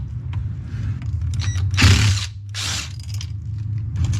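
A T20 Torx screw is backed out of the interior trim of a Tesla Model 3 or Model Y with a power driver, heard as two short whirring bursts close by over a low background hum.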